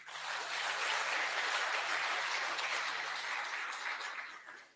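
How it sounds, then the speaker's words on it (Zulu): A crowd at a men's conference claps loudly for a group of dressed-up young men, a sustained dense wave of applause that swells and slowly fades out. "Bafowethu ngicela sishayele lezi insizwe ezivunule ihlombe likhulu kakhulu"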